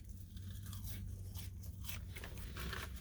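Crunchy McDonald's French fries being bitten and chewed up close, a few crisp crunches and scraping bites in quick succession with no talking.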